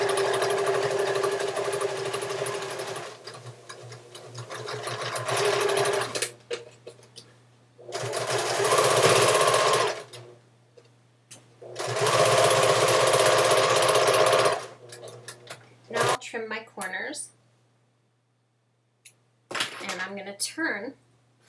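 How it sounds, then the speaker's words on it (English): Sewing machine stitching down both sides of a large envelope clutch bag, running in three long loud bursts with pauses between, followed by short clattering handling sounds and a low steady hum underneath. "just sew down each side. So I'm just finishing those sides."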